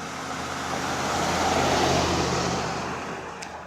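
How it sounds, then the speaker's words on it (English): Cars drive past on a nearby road, a steady broad roar that swells to a peak mid-way and then fades, with no one speaking. "here we go again with the people just driving up and down"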